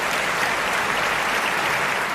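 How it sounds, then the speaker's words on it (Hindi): An audience claps throughout a Hindi patriotic poetry recitation, a dense, even burst of applause that holds steady for a couple of seconds with no voices over it. "इस तरह से नहीं, जरा जोरदार ताली उठती है तब कभी खुलता है"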